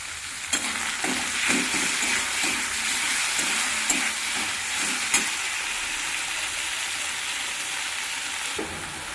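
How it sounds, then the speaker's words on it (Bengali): Chopped tomato frying with fried onion in a pan gives a loud, steady hissing sizzle, with soft rhythmic scraping of a spatula pushing the mixture around every half second or so, and no talking. "এবার পেঁয়াজটা ভাজা হয়ে গেছে, এবারে কুচানো টমেটোটা দিয়ে দিলাম।"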